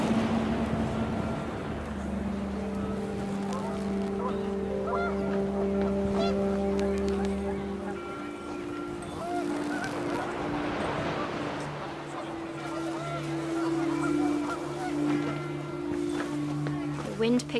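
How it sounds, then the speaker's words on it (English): Panicked geese honk in What Remains of Edith Finch, long sustained horn-like calls that overlap and shift in pitch over wind and ambient background. "panicked geese appeared and quickly went"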